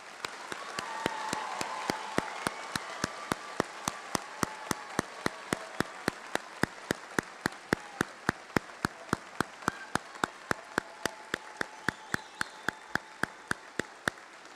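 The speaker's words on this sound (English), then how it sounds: "Now may we give all our graduates another round of applause." Applause from a large crowd at a university commencement ceremony, steady massed clapping lasting several seconds, with a regular sharp ticking running through it.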